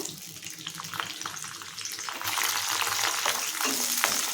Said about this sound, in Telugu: Oil heat ఎక్కిందండి. ఉల్లిపాయ కరివేపాకు వేస్తున్నాను.